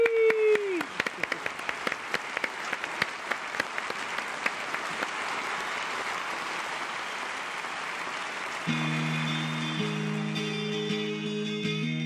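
Audience claps for a performer on a Mexican stage show, a sustained wash of applause with distinct sharp claps early on, later joined by soft musical tones as it fades.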